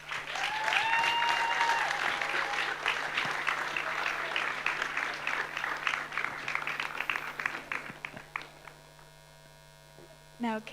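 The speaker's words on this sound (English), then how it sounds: "Another round of applause for both of them." Audience applause at an evening music program during a world festival week in Cabella, Italy, a dense sustained clapping over a steady mains hum, with a few faint tonal notes early on, thinning out near the end.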